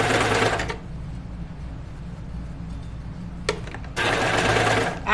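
A sewing machine stitches gathers on a Moneta dress in two loud, rapid bursts at the start and end, separated by a quiet pause with a brief whir in between.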